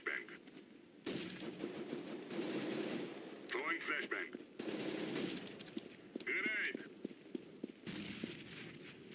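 Gunfire in Counter-Strike: Global Offensive, bursts of automatic shots and single cracks coming in uneven clusters over steady game noise, with a voice talking over parts of it.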